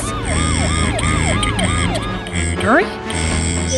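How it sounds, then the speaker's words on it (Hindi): A wailing ambulance siren rises and falls repeatedly over engine rumble, close and loud, with a sharp sweeping burst near the end. "एम्बुलेंस"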